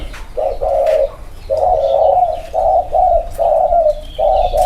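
A dove coos in a repeated series of soft, low hooting phrases with brief pauses between them, close and clear against quiet background noise.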